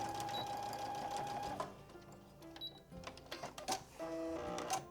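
A sewing machine stitches the pocket pieces of a fabric project bag in short whirring runs, stopping and restarting in bursts, close and moderately quiet, with no voices.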